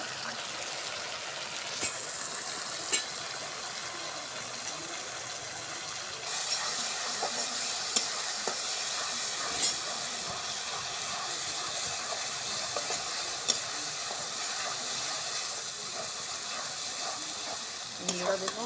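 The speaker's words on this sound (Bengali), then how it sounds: "কত সুন্দর তেল ছাড়ে রসুন মশলা দিয়ে অনেক সুন্দর কষানো হয়ে গেছে" A spice paste with garlic sizzles and fries in oil while being cooked down for pigeon meat. A steady, dense crackling hiss continues throughout, with occasional stirring clicks and scrapes close by.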